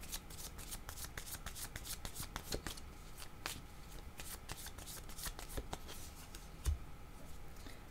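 Tarot cards being shuffled by hand, with repeated soft riffling and snapping bursts spread across the span, close but quiet, no talk.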